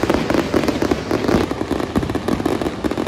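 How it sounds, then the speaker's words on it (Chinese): Fireworks boom and crackle over a night show at the Fantawild Oriental Legend theme park in Yingtan, loud, rapid overlapping blasts filling the whole stretch. "烟花震耳欲聋。"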